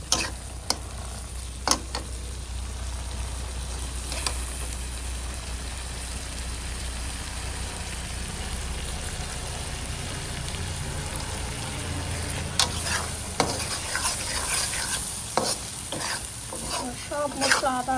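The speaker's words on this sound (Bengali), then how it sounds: "তো আমি একটু ভেজে নেব তেলের উপর, খুব ভালো করে কষিয়ে নেব।" Beef brain frying and being stirred in hot oil with onions and spices, a steady sizzle with scraping stirs and occasional clatters throughout, close and continuous, no talking.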